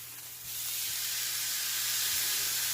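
Chicken in a balsamic glaze sizzles loudly in a pan as it is flipped, a quieter start swelling at once into a steady, bright hiss that holds to the end without talk.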